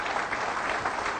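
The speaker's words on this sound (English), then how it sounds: "a major round of applause for the American people waking up" Sustained applause from a conference audience, a dense, even wash of clapping that holds steady throughout with no voice over it.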